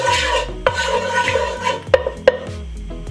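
A spoon stirring oil in a pot for kettle corn scrapes and clinks against the metal, with a few sharp knocks near the end, close and clear with no talk.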